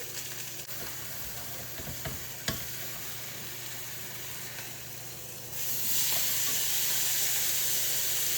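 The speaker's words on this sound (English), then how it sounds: "let that sear" A pot roast searing in a hot pan gives a steady, close hiss and sizzle with a few sharp pops, then swells louder partway through. No one speaks.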